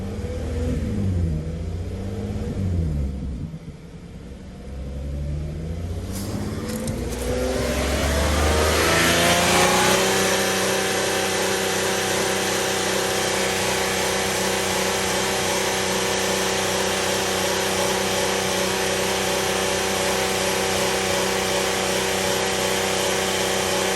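The VR6 engine of a 78K-mile VW Atlas revs up unevenly, then settles into a steady, sustained drone held at around 2,000 RPM, loud and close throughout.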